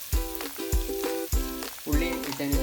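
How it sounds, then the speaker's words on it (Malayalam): Chopped onion frying for chicken curry and being stirred in a pan: a sizzle under regular, rhythmic spoon strokes that scrape and clink against the metal about every half second, close up. "ഒണിയിട്ടതിന് ശേഷം നന്നായി ഇളക്കി കൊടുക്കും."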